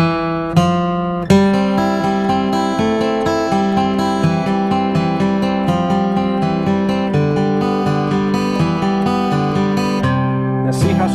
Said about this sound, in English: We're going to add the melody to Wildwood Flower to that mess.